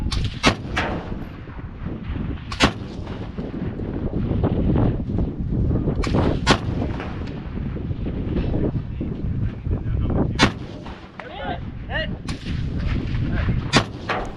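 Shots from a Tabuk sniper rifle at a DMR shooting match boom loudly at irregular intervals, roughly seven or eight sharp reports over steady wind buffeting on the microphone, with brief speech mixed in.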